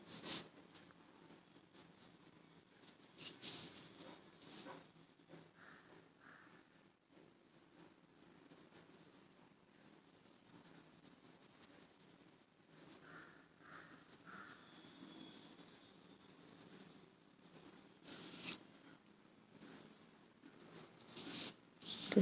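A 2B pencil drawing on paper makes soft, close scratching and rubbing strokes in irregular bursts, with brief pauses between them and no talking.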